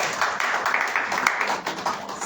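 Church congregation clapping in a warm burst of applause, dense and continuous throughout, with some voices mixed in.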